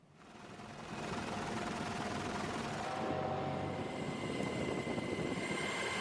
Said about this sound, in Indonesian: Rekaman yang dirilis oleh CENTCOM menunjukkan sebuah helikopter militer Amerika Serikat berada di atas kapal MT Celestial berbendera Iran.